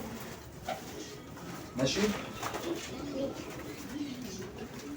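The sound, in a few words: pigeons cooing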